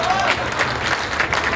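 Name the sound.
audience applause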